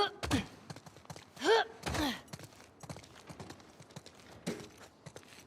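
Horse hooves clip-clopping in the video game The Last of Us Part II, soft and fairly distant, with a few louder snorting or whinnying bursts near the start.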